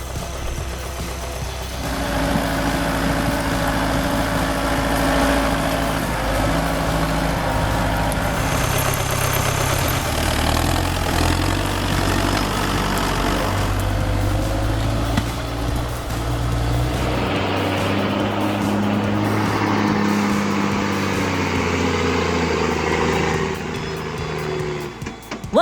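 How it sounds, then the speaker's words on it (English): A Belarus EMS 1025 logging tractor's engine runs steadily, a continuous low rumble that holds constant with a shift in pitch partway through, no voices present. "Oh, this Belarus EMS 1025 is a real champ. It tackles those tough logging jobs with a smile."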